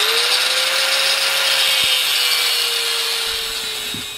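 A power saw cuts a small metal piece for a homemade blast furnace, giving a steady, loud grinding whine with a gliding tone that holds for about four seconds and eases slightly at the end.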